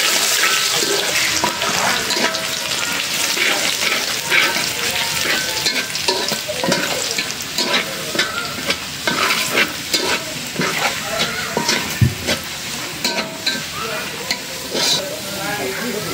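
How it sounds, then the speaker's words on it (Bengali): Garlic and dried red chilies frying in hot oil, a loud, continuous sizzle with frequent metal spoon scrapes and clinks as they are stirred. "এখন দিয়ে দিলাম রসুন। শুকনো মরিচটা ভালো করে ভেজে নিলাম।"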